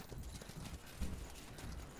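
Horses being ridden in the fantasy strategy game Spellforce 3, hooves clip-clopping softly in a quick, uneven patter under a busy, noisy game soundscape.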